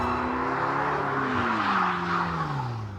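A McLaren 12C Spider pushed hard on a slippery track, its engine note sweeping up and down loudly and continuously while the tyres scrub and squeal beneath it.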